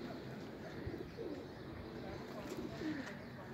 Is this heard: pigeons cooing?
yes